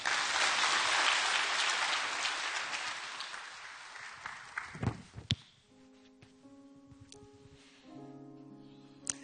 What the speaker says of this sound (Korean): 우리 강다윤 자매님 나오실 때 우리 박수로 환영하겠습니다